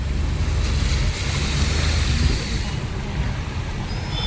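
Floodwater surges like sea waves across a flooded area, a loud continuous wash with wind buffeting the microphone up close.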